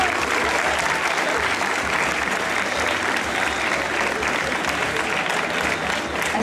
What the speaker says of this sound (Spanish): les vamos a dar un fuerte aplauso y gratitud